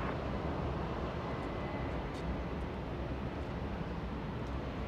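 A KLM heavy jet takes off from runway 24 left at Los Angeles International Airport, heard as a steady, broad distant engine roar that holds evenly throughout with no talk.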